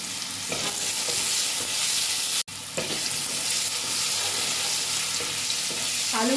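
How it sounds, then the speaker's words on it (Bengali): Potatoes frying in a pan with salt and turmeric for a cauliflower-potato dish, a continuous hiss and crackle of oil with occasional stirring scrapes and one brief dropout partway through. "আমি ভালো করে লাল লাল করে ভেজে নেব যেন এমন করে ভাজবো যেন সেদ্ধ হয়ে যায়"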